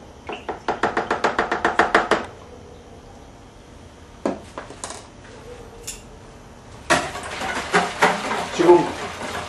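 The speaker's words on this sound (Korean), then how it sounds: "지금 홈드라이를 물에 섞었습니다. 섞고 이렇게 반드시 좀 잘 저어주세요." A spoon stirs Home Dry detergent into about a litre of water, making a quick run of rhythmic clinks against the container, then scattered taps and a final flurry of sloshing and clinking, all close by.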